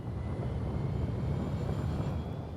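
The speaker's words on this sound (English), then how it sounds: "let's actually add some juice into the engines" Spaceship engines throttling up in the Elite Dangerous game, a steady low rumbling roar that holds at constant loudness throughout and eases off slightly at the very end.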